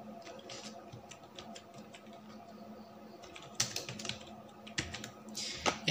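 Rapid, uneven clicking of computer keys as personal details are typed into an Aadhaar card update form, close and fairly quiet, with short pauses and a few louder keystrokes near the end and no talking.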